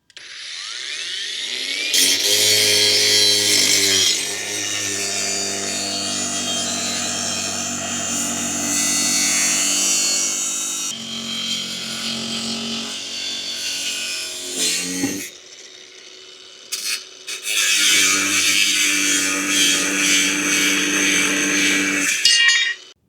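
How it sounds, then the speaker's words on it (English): An angle grinder fitted with a 4.5-inch ultra-thin cut-off wheel cuts through material with a loud, sustained high-pitched whine and harsh grinding. It runs steadily for about thirteen seconds, drops off briefly, then spins up and cuts again. "This is a demonstration of cutting with the blade."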